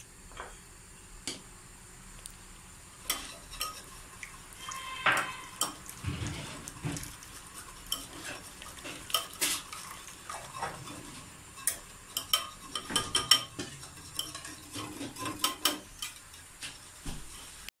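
A spoon slowly stirs egg-thickened trotter soup in a pot, producing irregular clinks, taps and scrapes against the metal at an unhurried pace, close by over a faint background, with no talk.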